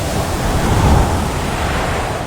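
Strong typhoon eyewall wind and rain roar as a dense, steady rushing wash, loud and close, swelling slightly near the middle with no voices.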